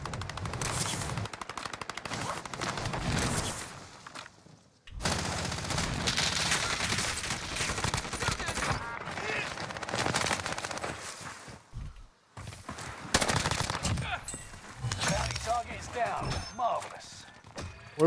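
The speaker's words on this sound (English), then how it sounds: "I think I'm being sniped at." Rapid bursts of automatic gunfire and sniper shots ring out in a Warzone battle on Caldera, loud and sustained with brief pauses, while players talk over the shooting.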